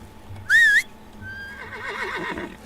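A single high, wavering horse whinny from the video game Medieval Dynasty bursts out loudly, then fades into quieter tonal game sounds and a faint warbling background.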